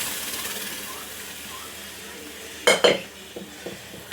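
Pav bhaji batter poured into cooking masala in a pan and stirred, with a soft steady sizzle, then a couple of sharp utensil clanks and a few lighter scrapes, close by.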